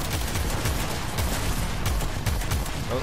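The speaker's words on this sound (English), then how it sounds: "It shoots a, a projectile that explodes. So it has an, a massive AoE explosion." Rapid volleys of explosive weapon fire from an Archwing gun in the Warframe video game, its projectiles bursting in a massive area blast, a dense continuous barrage of booms and crackles that stays loud throughout.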